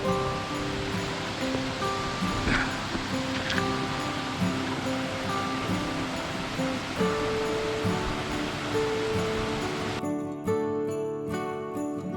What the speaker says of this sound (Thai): น้ำตกวังกวางแล้วนะครับ